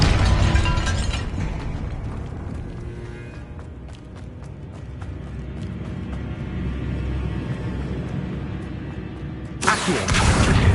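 A Confringo explosion spell cast in the video game Hogwarts Legacy, a loud blast that starts the clip, followed by rumbling debris and crackles that fade, then another loud burst near the end.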